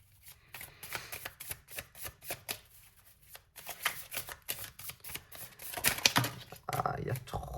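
Tarot cards being shuffled by hand in rapid, uneven bursts of soft riffling and slapping, close and quiet, with someone speaking French over parts of it.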